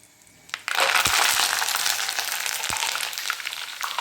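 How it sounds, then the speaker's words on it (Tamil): Drumstick leaves drop into hot homemade ghee made from country-cow butter, setting off a sudden loud crackling sizzle that stays steady and close after a couple of soft knocks, with no one speaking. "இனி நம்ம முருங்கையால் சேர்த்திக்கலாம் போடுங்க முருங்கையெல்லாம்"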